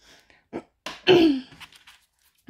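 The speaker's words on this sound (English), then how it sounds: "Sorry if I keep coughing" A single sharp cough-like burst, throaty and close, between a few soft breaths and small mouth noises in an otherwise quiet room.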